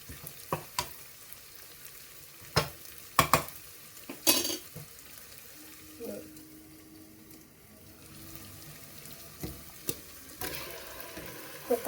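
Marinated chicken frying with onions and mint in a pan gives a steady close sizzle, broken by several sharp clanks and scrapes of stirring, with no talk.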